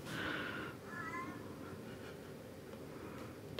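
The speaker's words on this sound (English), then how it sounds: "There's a cat." A cat meows a few times from indoors, close and fairly clear, with a long drawn-out cry at the start and shorter calls after, over a quiet room with no talking.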